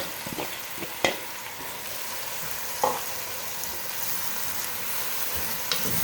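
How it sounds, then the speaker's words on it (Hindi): Finely chopped onions, 700 grams, frying in hot oil in a pot for chicken biryani, giving a steady close hiss and sizzle with occasional louder stirring scrapes and pops. "ऑयल गर्म हो चुका हुआ है। अब इसमें प्याज शामिल करेंगे।"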